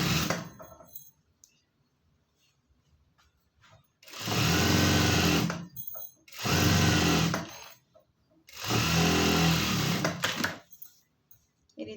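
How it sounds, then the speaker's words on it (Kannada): Three loud bursts of sewing machine stitching on a blouse lining, each lasting one to two seconds and separated by brief quiet pauses, with a rapid mechanical whir close by. "ಈ ರೀತಿ ಟರ್ನ್ ಮಾಡಿ ಒಂದು ಸ್ಟಿಚ್ ಹಾಕೋಣ ಮೇಲೆ"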